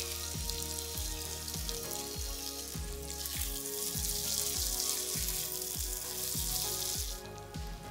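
Capsicum and other vegetables cook in a pan seasoned with black pepper for black pepper beef, a continuous close sizzle running throughout with a regular pattern of soft repeating knocks.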